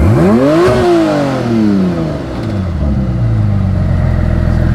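Tuned 850HP Porsche 911 Turbo engine revving loudly during a launch attempt with foot on the brake, rising sharply in pitch, dropping back, then settling into a steady rumbling idle, close and alone.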